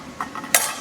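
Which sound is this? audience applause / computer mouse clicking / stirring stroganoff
stirring stroganoff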